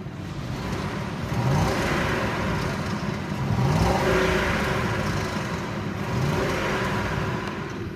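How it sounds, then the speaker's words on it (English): A 1999 Ford Expedition Eddie Bauer with the check engine light on, its engine running steadily and swelling in gentle revs, heard close with a broad whirring drone and no talk. "Let's go ahead and listen to the engine."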